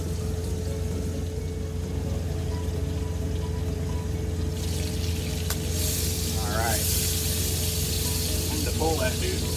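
A steak sizzles in a pan of butter heated to 400 degrees inside a truck, giving a steady, close hiss and crackle throughout, with a few brief clatters and squeaks partway through.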